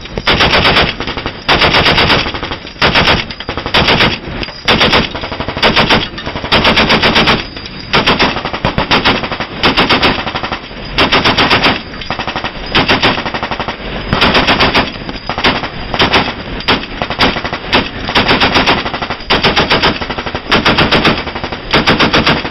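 Loud repeated bursts of heavy machine-gun fire from a mounted weapon aboard a naval vessel, service members firing short rapid strings with brief pauses between them, close and dominant throughout.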